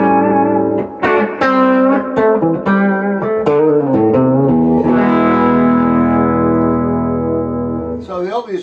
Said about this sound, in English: I'm going to use a little bit of distortion on this just to show how it sort of kicks out a little bit of grunt.